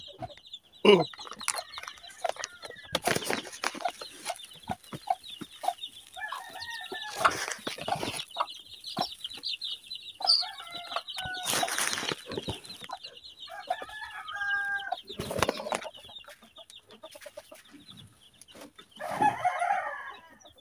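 Backyard chickens feeding from a tray cluck and call in scattered bursts, with an occasional rooster crow and rustling pecks, close and lively with no talking.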